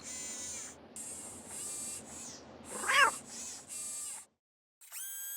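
A cat in the Nancy Drew game Shadow at the Water's Edge gives a drawn-out meow in the middle of a few seconds of buzzy, tonal game sound, then falls briefly silent.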